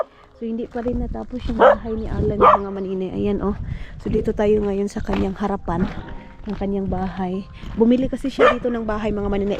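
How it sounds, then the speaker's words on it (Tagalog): A house dog barks and yips angrily at a visitor outside a home, repeated sharp barks coming in bursts close by, mixed with someone talking over them throughout. "Ayan yung aso niya mga maninay. Galit na galit sa akin dahil."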